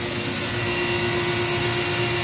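Compressor of a Stoelting ice cream machine running, a loud, steady close-up hum with a constant tonal drone and broadband whir, unbroken for the whole stretch.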